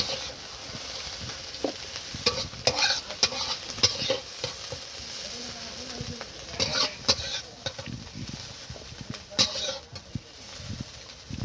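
Oil sizzles steadily while rui fish fries, with crackling bursts and scraping stirs of a utensil, and faint bird calls in the background.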